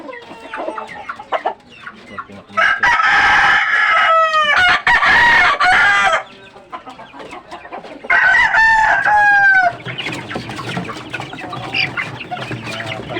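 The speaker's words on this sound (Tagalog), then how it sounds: "Ito yung manok." Loud roosters crow repeatedly, their long calls overlapping, while hens cluck and squawk nearby between and after the crows.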